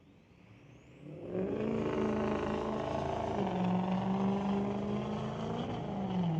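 A Chevy pickup and a Ford F-250 launching side by side off the line at a junior street drag race. A quiet opening swells into a loud, sustained engine roar that holds steady to the end.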